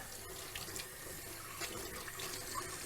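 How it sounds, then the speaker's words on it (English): Water runs steadily from a kitchen tap into a sink, a faint, continuous hiss and splash with small fluctuations, heard alone. "if you're wondering why the water is running"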